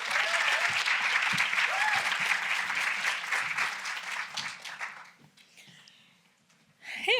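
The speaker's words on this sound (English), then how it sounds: "Give her a round of applause." An audience at an entrepreneurs' event breaks into sustained applause, dense and steady for several seconds before fading out, with a voice starting to speak at the end.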